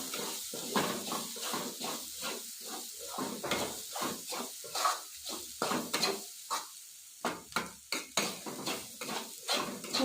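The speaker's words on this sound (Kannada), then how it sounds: "ಈಗ ಇದನ್ನು ಹಾಕಿ ಇದನ್ನ ಚೆನ್ನಾಗಿ ಮಸಾಲೆ ಹಿಡ್ಕೊಳ್ಳೋದು ಫ್ರೈ ಮಾಡ್ಕೊಳ್ಳೋಣ" Green beans fry with masala in a pan for a hotel-style beans palya, a low sizzle under repeated scraping and clanking of a metal spoon against the pan in an uneven stirring rhythm, close and clear.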